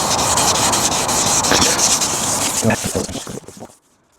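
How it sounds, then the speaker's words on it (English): A car headlight's edges on a Toyota Altezza being wet sanded by hand: a loud, steady, close-up abrasive rubbing that runs continuously, breaks into a few strokes, then stops, leaving near silence. "Then wet sand, then polish."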